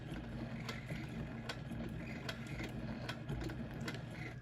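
Sewing machine running steadily to lock in stitches while quilting a spinning wheels quilt, a continuous close mechanical whir with faint periodic ticks and no pauses.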